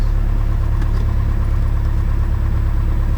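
A Cessna 172 engine runs up on the ground with the brakes held, giving a loud, steady, unbroken drone right beside the listener and no talk over it.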